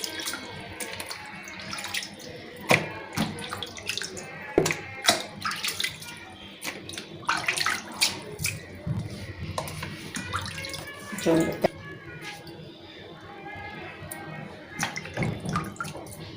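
Fish being washed under a running tap, with salt and ragi flour used to scrub it clean; water splashes and gushes steadily into a sink with intermittent sharp clatter and handling noises, close and fairly loud throughout.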